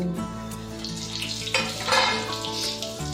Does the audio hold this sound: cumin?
yes